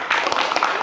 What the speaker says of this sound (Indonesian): Tepuk tangan pada kita semuanya